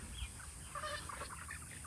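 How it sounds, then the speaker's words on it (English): Chickens on a farm pasture during a heat wave, moved along behind portable fencing, give soft, scattered clucks at close range over a steady background hum. "The chickens."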